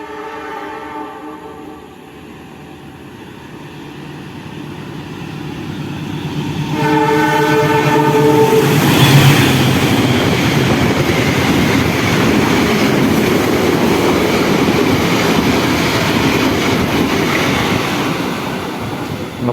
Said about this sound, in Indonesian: Ngebut banget kereta api Wijaya Kusuma berjalan langsung di stasiun Prambun.